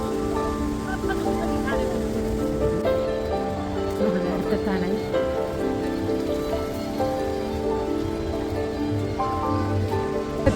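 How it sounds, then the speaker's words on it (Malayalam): A rushing waterfall roars as a constant broad wash of spray and falling water close by on a road trip in Thawang, with a person speaking briefly over it. "വെള്ളം കുത്തി ഒഴുകുന്ന സൗണ്ട് കേൾക്കുന്നു"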